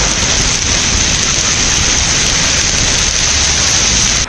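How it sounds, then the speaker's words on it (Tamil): Heavy rain pours down in Chennai, a loud, dense, unbroken roar of water hitting surfaces close by, steady from start to finish with no talking. "வடசென்னை பகுதிகளிலும் மழை கொட்டியது"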